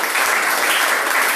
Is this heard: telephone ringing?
no